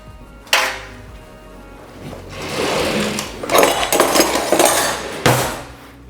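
Metal cutlery rattles and clatters close by as utensils are shuffled in a kitchen drawer to find a bigger spoon, with a few sharp clinks and a sustained jangle and no speech.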